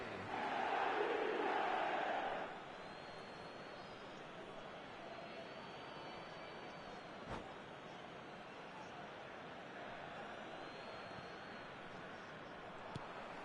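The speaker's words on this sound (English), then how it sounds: "the crowd are reacting to that now" A stadium crowd in the eFootball video game roars loudly for about two seconds, then settles into a steady, distant murmur of background noise with occasional faint knocks.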